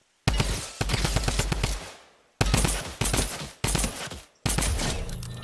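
Rapid bursts of automatic gunfire in a robot zombie shooter game, several loud sustained volleys separated by short pauses, with no talking over them.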